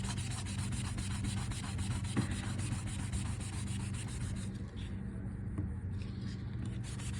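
Continuous rhythmic scratchy rubbing of 1000-grit sandpaper on a sanding block, wet-sanding out a clear coat run, steady back-and-forth strokes, close up with no voices.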